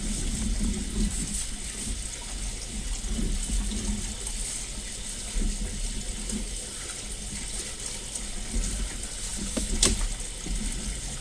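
Water running into a mop sink at a Dollar General store in Spooner, Wisconsin, a steady broadband rush and splash heard throughout, fairly loud and even, with a faint knock near the end.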